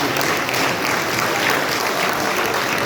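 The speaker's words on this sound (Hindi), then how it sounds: "जोरदार ताली होनी चाहिए" An audience claps steadily and loudly at a government event, a dense, continuous roar of hands that fills the whole stretch without pause or fade.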